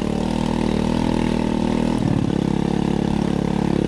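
A standard Chinese 50cc four-stroke scooter engine, a China Power model, runs at a steady idle. It makes a loud, continuous close-up drone whose tone shifts briefly partway through, with no talking.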